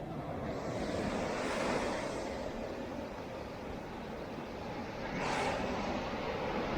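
Rough sea surf breaking on a beach at Tayrona park on the Colombian coast, a steady loud roar of waves with two swelling crashes, mixed with wind buffeting the microphone.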